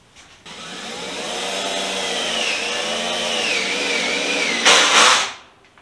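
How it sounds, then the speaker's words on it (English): A screw gun drives a screw during a DIY teardrop trailer build, a steady close whine lasting several seconds that rises in pitch as the screw seats, then a brief harsh burst before stopping. "Now I'm going to grab my screw gun and some screws."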